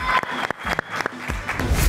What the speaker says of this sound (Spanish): Aplausos para Alba y Jonathan,